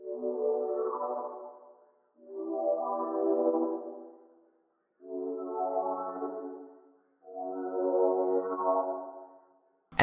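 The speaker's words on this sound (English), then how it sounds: "then I chopped it up and reversed it to sound something like this." A synth pad sample, rendered, chopped and reversed with heavy processing, plays as four swelling tonal chunks separated by short gaps, each rising in loudness before cutting off, clean and alone.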